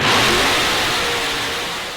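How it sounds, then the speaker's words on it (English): A Chevrolet Corvette sports car engine revs loudly and close by, a broad, dense roar that holds steady and fades only slightly over two seconds, with no talk over it. "You hear that? That's the sound of America's only sports car."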